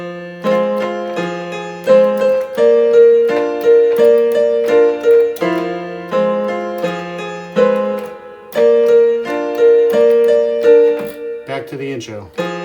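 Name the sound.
piano playing a song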